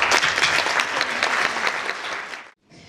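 An audience at a charity concert claps for a singer, dense steady applause that holds for over two seconds and then cuts off abruptly into near silence.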